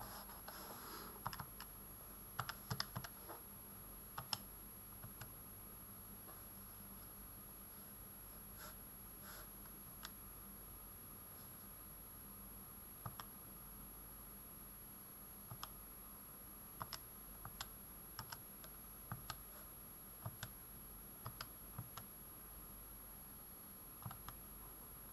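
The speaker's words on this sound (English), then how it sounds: "you can just go straight to the calculator and just type it in carefully using your brackets" Soft, scattered button clicks from a calculator as a calculation is keyed in, quick irregular taps spread over the stretch, faint and close, with no talking.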